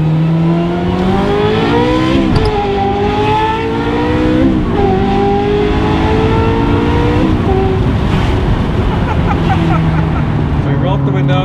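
A Ferrari 355 F1 GTS engine screams loudly and up close, its pitch climbing in repeated sweeping waves as it revs through the gears, with brief dips between each rising surge.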